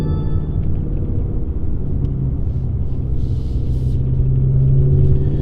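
A Shelby GT350's engine drones steadily at about 3,000 RPM while driving, a loud, continuous low rumble that swells slightly near the end as the throttle is let off.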